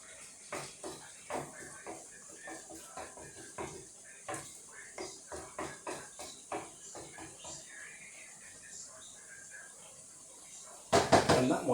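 A utensil clacks repeatedly against a pan as beef keema is stirred, a steady run of close, light knocks and scrapes, then a louder rushing noise at the end.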